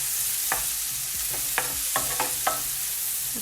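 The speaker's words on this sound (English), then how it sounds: "we just want to stir this about just a bit" Onions or shallots sizzle in butter under a loud steady hiss, with several sharp spoon scrapes and taps as they are stirred in the pan, close up.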